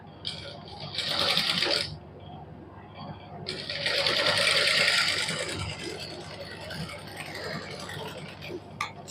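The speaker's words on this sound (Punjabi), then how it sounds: "ਆਪਾਂ ਸਲਾਈ ਲਾ ਦਾਂਗੇ" A sewing machine stitches fabric along a garment neckline in a tailoring boutique, running in two rapid whirring bursts, a short one and then a longer one, with quieter room noise between.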